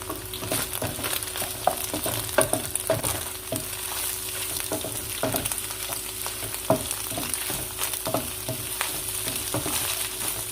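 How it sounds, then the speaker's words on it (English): Eggs scrambling with onions in hot oil for fried rice, a continuous crackling sizzle with frequent sharp spatula taps and scrapes against the pan, close up and without talk. "It's kind of like scrambled eggs in the midst of all that onions and oil."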